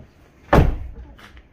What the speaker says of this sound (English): You gotta give the doors a little bit more oomph to shut them so far.